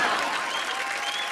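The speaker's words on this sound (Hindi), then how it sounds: "तालियां" An awards function audience breaks into a short burst of applause, a dense wash of clapping that stays fairly loud and fades slightly over its brief span.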